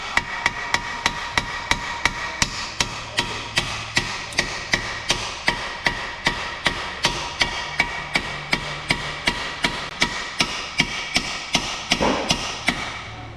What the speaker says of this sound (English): Ideally use a rubber hammer.